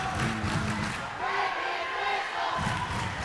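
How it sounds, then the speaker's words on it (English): Rowdy student section at a high school basketball game, a loud dense crowd roar with shouting and chanting surging continuously, close and overwhelming. "the student section from Lions is a little rowdy right here"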